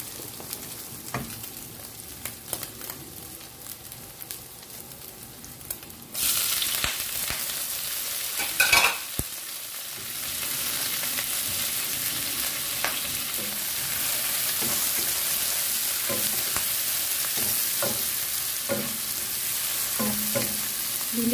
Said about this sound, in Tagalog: Pwede na natin igisa dito ang ating onion, garlic at kamatis.